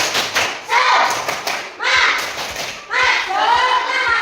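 A group performs the 'tepuk semangat' rhythmic clapping pattern, thudding claps and taps in a lively beat mixed with shouted chanting voices, close and loud.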